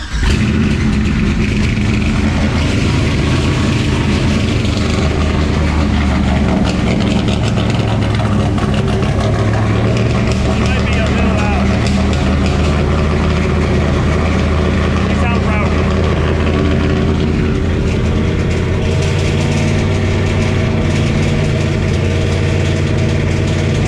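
A 1968 vintage Camaro hotrod fitted with an LS V8 on its first drive rumbles loudly and continuously, idling and revving in rough surges, with people talking over the engine.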